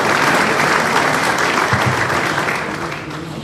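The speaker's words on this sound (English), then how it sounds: "So a good round of applause for all of you." During an online finance class session, participants applaud, a dense round of clapping that holds steady and then gradually tapers off toward the end.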